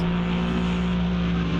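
GT race cars, Porsche and BMW, racing at Monza around the Parabolica, producing a loud, sustained engine drone with no talk.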